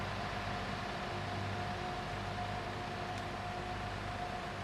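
A mixer wagon runs in Farming Simulator 19, giving a steady, even mechanical hum and whir with a faint tonal whine, constant and unbroken throughout.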